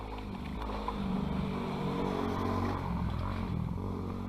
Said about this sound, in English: Got a motorcycle up there.